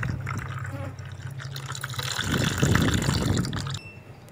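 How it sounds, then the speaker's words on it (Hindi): Ripe, fresh falsa fruit juice being squeezed by hand into a container, a wet trickling and dripping of liquid that swells into a louder splashing pour midway, close and alone without any talk. "ये डब्बे में निचोड़ लिया है।"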